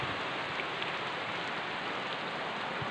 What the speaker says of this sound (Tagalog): So ngayon, umuulan na guys.